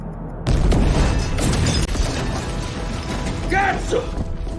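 Bomb blast in an action film, a sudden heavy boom that cuts in abruptly and rolls into a dense, rumbling aftermath with creaks and debris, with faint voices beneath.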